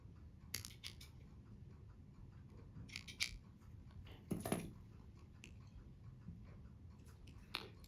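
Scissors trim thread on a fly-tying hook while an ant pattern is tied, giving a few faint, crisp snips and clicks spread over several seconds in a quiet room.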